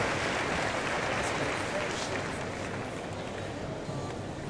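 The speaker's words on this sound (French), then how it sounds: "vos applaudissements s'il vous plaît pour lui souhaiter la bienvenue" A show jumping crowd at an indoor international grand prix in Lyon welcomes an Irish rider with a steady wash of applause, broad and continuous, slowly easing in level.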